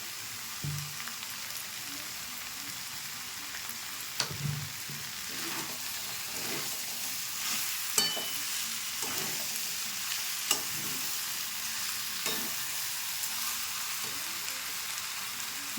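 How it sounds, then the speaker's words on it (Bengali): Peas, potato and soy chunk curry being stirred and mixed with salt in a pan: a soft continuous sizzle with occasional spoon scrapes and knocks against the metal, fairly quiet, no speech. "ভালো করে মিশিয়ে নিচ্ছি। পরিমাণ মতো লবণ দিয়ে দিচ্ছি।"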